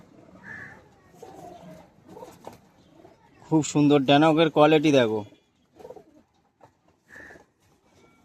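Male pigeons of Teddy, Golden and Madras breeds held for sale give a loud, close, rolling coo lasting a couple of seconds, with someone speaking before and after it.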